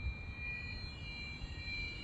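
RC Cub model airplane with a 10-inch slow-fly prop flying on a windy day, its electric motor giving a steady, fairly faint drone with a thin high whine held throughout.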